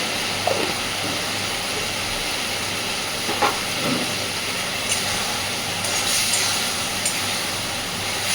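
Mustard-spice paste with chili powder frying in oil for a Bengali river-fish teljhal curry, giving a steady, dense sizzle and hiss throughout with a few brief louder crackles, heard alone.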